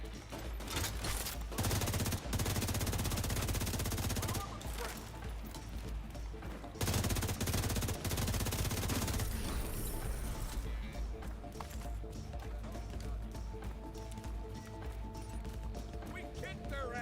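Dense automatic gunfire from a firefight in The Division 2, a video game, rattling loud and continuous throughout with brief gaps, while a voice talks over parts of the shooting.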